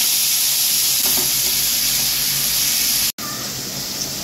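Onion stalks with small onions hit hot oil in a pan while cooking a Bengali katla fish curry, giving a loud, continuous sizzle with a brief cut in the middle before the frying hiss resumes.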